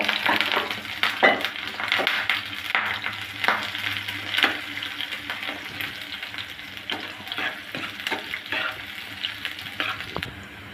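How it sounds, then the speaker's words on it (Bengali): Three dried chilies, chopped onion, sliced green chili and minced garlic frying in hot oil for a leafy vegetable dish, a steady loud sizzle with repeated scraping stirs throughout. "তেলটা গরম হলে দিয়ে দেবো 3টা শুকনো মরিচ, আর দিয়ে দেবো পেঁয়াজ কুচি, কাঁচামরিচ ফালি, রসুন কুচি দিয়ে একটু ভেজে নেব।"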